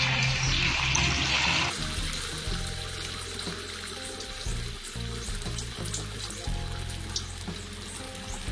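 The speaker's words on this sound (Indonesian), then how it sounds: "Dan kita goreng." Breadfruit pieces coated in flour fry in hot oil, a steady, close sizzle and crackle with a brief louder hissing burst at the start, with no voices.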